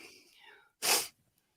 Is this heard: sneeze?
yes